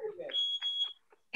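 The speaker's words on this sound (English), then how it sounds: "The fire alarm's going off." A smoke-type fire alarm goes off indoors, a steady high electronic tone sounding over people talking and a brief low noise, with sharp bursts near the end.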